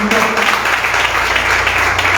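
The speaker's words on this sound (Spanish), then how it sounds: "Dar un aplauso bien fuerte al Señor" A church congregation claps loudly during a Sunday worship service, a dense continuous wash of applause that fills the whole moment, with a voice faintly present underneath.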